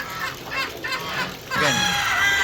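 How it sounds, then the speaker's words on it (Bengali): A farmyard hen clucks loudly after laying an egg. Other poultry and ducks are nearby, and the hen's rapid repeated cackles rise into a longer, strident call near the end. "মুরগির ডিম পেয়ে ক ক ক ক করছে"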